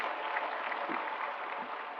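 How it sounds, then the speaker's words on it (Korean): A church congregation clapping at a New Year service, steady, band-limited applause that sounds somewhat distant and thin, continuing evenly without voices. "우리 새해를 허락하신 하나님께 영광의 박수 돌리겠습니다"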